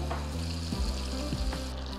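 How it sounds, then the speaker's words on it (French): Steady sizzling and crackling of butter melting in a saucepan on the heat, with a low hum underneath and a couple of soft scraping touches. "dans ma casserole mon beurre. On va le laisser fondre tout doucement"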